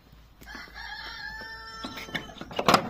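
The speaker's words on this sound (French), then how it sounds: "vous entendez les cris des nouveaux coqs" Several new roosters at a backyard poultry pen crow in overlapping calls, one long drawn-out crow followed by shorter cries and clucks, fairly close, with some rustling and construction clutter nearby.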